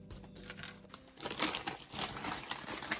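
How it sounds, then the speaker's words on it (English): A dusty vintage model train locomotive being unwrapped from crinkly wrapping, soft close rustling and crumpling that grows busier and steadier after a quiet start. "I'm gonna unbox it or unwrap this, not on the table, so I don't get all that dust and gunk on it."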